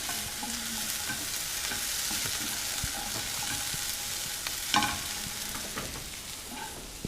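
Onions and bacon bits frying in fat in a pan, a steady loud sizzle throughout with occasional stirring scrapes and a brief clack near the middle; no talking.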